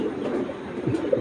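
A male Hurricane breed pigeon coos softly and close by, a low throaty warble that rises and falls across the short moment with no talking.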